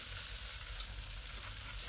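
Minced fresh tofu skin hits a pan of golden fried garlic over medium heat, giving a steady, close hiss and crackle of frying that carries on evenly without a break. Nobody speaks.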